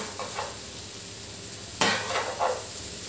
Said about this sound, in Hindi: रोटी डालने के बाद हम इसमें ये टमाटर भी डाल देंगे और अब इसको अच्छे से मिक्स कर लेंगे।